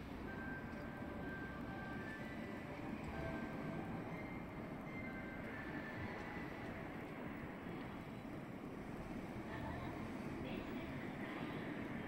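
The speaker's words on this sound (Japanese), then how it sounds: "西九条方面の列車到着いたします。" A Hanshin Namba Line train rumbles steadily through Nishikujo station, a broad low roar with faint squealing tones above it, continuous and fairly distant.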